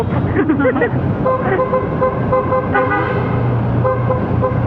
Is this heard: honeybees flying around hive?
no